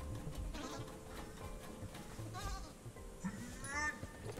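Goat bleating in the puzzle horror game Creaks, a few quavering bleats standing out in the second half over a busy, low game soundscape.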